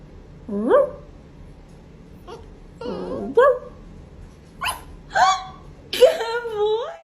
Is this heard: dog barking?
yes